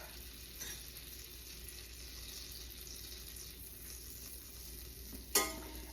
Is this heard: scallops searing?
yes